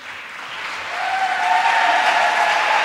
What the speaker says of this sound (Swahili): Naomba wazazi wasimame tuwapigie makofi.